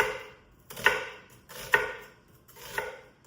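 A knife dices onion and celery on a cutting board in three distinct chopping strikes, each a crisp close knock with a short crunch, spaced about a second apart.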